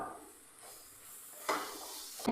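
Flattened rice (aval) roasting in a little ghee in a pan gives a soft, steady sizzle, broken by a couple of brief scraping clinks of stirring against the metal.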